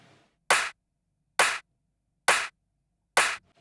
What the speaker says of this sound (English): And then we have the clap on the drop